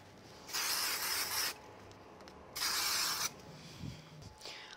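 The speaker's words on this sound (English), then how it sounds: "I'm just going to give it a quick spray with the spray glue" Two short hissing bursts of aerosol spray glue onto a card, each about a second long, separated by a pause, followed by a faint thump and rustle.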